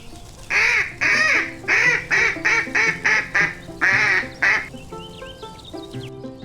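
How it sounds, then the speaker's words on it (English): A farm duck on a pond quacks in a loud run of about nine quick, evenly spaced quacks, then trails off into quieter, softer calls near the end. "Duck says quack quack and splashes in the pond."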